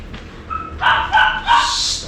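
A dog yips and barks a few times in quick succession, fairly close, with a high whiny edge between barks.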